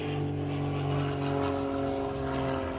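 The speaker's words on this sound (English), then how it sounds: "besides the airplane flying overhead" An airplane drones steadily overhead outdoors on a hot day, a continuous hum of low propeller tones that stays level and fairly close for the whole stretch, with no talking.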